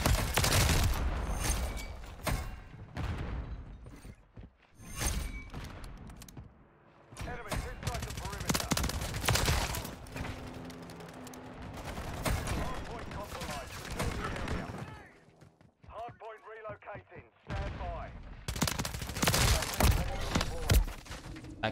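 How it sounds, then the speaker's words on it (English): Gunfire from a teammate in Modern Warfare 3, repeated loud bursts of automatic rifle shots in uneven clusters, close by, with brief quieter gaps and some talk mixed in. "I got an idiot teammate shooting around my body."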